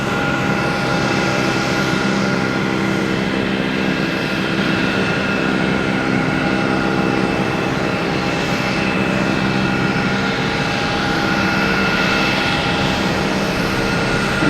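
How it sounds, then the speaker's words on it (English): A JetBlue Airbus A320 airliner arriving at Boston Logan Airport at night gives a steady, loud, broadband jet engine roar that holds constant throughout with no talking. "We got JetBlue coming in from Austin, an A320."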